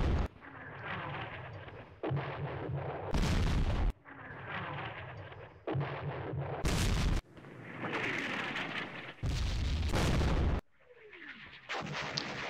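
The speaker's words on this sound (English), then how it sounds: "Good thing we got some artillery coming in there." Artillery fire in a Middle East war strategy game, with repeated heavy booming blasts and rumbling impacts that cut in and out in short bursts, loud and alone without talk.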